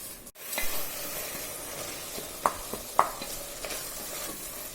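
Chopped tomatoes sauté in a pan for tomato rice, giving a soft steady sizzle with a few sharp spoon taps and stirring scrapes, close and quiet, with no voices.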